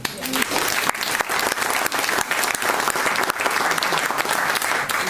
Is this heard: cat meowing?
no